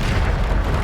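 Bombarda explosion spell in Hogwarts Legacy, a short, loud, low booming blast that fills the whole moment with a dense rumbling burst.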